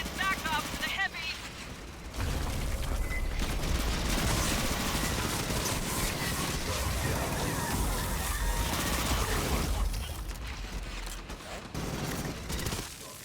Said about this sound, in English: Drawn by the gunfire.